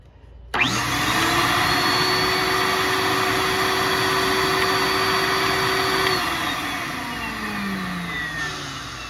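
A VPI record cleaning machine starts abruptly with a loud, steady vacuum whine and motor hum that holds for several seconds, then the pitch slowly falls as it winds down.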